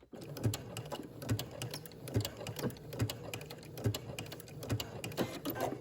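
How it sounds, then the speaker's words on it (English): A home sewing machine back stitches a seam to secure a pocket on a maxi dress, giving a steady run of rhythmic mechanical stitching pulses at close range with no voices. "I'm going to back stitch."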